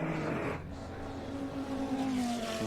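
Holden Commodore race cars sweeping past during an endurance race at a circuit, a sustained engine roar with a pitch shift as they pass, moderately near.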